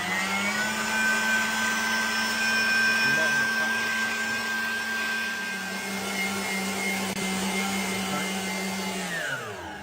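An electric stand mixer whisks egg whites at high speed for a lemon meringue pie, giving a steady loud whirring hum that holds for several seconds and then winds down near the end.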